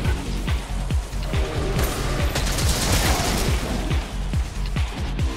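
A bowgun firing normal ammo level 3 in Monster Hunter World, heard as rapid, repeated loud gunshot blasts in a steady volley over busy game noise.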